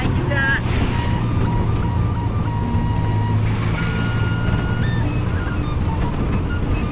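An odong-odong, a small open tourist ride vehicle, drives along in a village tourist area with a constant engine drone and a loud tinny melody or beeping tune playing over it, while people talk nearby.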